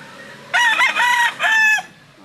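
A rooster gives one loud, close crow in a few drawn-out, strained phrases, lasting just over a second. Faint background noise comes before and after.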